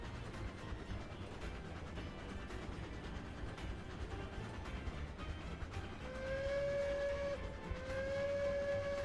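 A steam train whistle in a railroad video game sounds two long tones in the last few seconds, over a steady low rumble of the moving train, faint overall.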